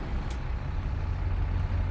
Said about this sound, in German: So, und dann Motor starten.